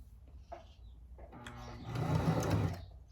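A sewing machine runs in a short burst of rapid stitching, its motor whirring and needle chattering, preceded by a few quieter clicks.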